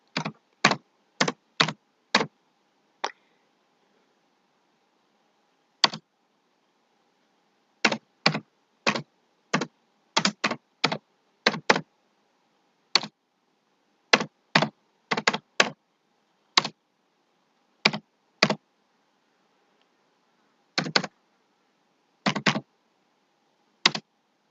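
Keys clacking on a computer keyboard while entering text in Microsoft Word, with quick bursts of keystrokes separated by pauses, close and clear with no talking.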